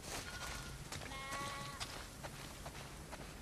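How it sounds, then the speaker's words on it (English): Sheep bleat in The Last of Us Part II: a few wavering bleats sound at a middle distance over soft background ambience, with faint footsteps and no talking. "We definitely have way too many sheep."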